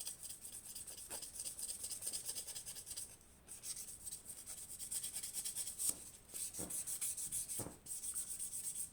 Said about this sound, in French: Ensuite, je prends mon buffer que je vais buffer toute ma matière au-dessus.